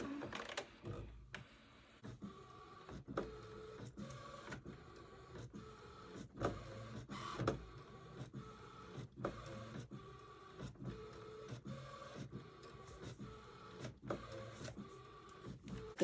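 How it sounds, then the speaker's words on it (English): A printer running planner inserts onto vellum, with a quiet repeating mechanical rhythm of short whirring passes and clicks, steady and even throughout with no talking. "And I'm printing those on vellum."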